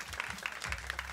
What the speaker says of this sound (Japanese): じゃあホールポイントに大きな拍手を。